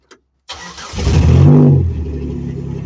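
A turbocharged V6 swapped into a Geo Metro cranks briefly, then catches and revs up loudly before settling into a rough, steady idle close by.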